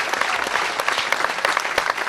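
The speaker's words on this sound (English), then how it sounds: "a round of applause for all 4 couples here" A live audience at a Newlywed Game show applauds the four couples, a steady, loud wash of many hands clapping continuously throughout, with no voice over it.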